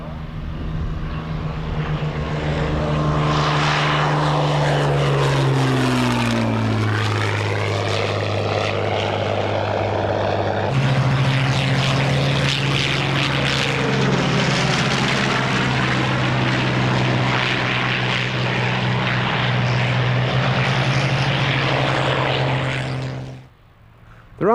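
A group of Spitfire piston-engine fighters takes off at the Duxford Flying Legends air show, their engines roaring loud and close with sweeping pitch changes as they pass, then fading briefly at the end; a voice is heard under the engines.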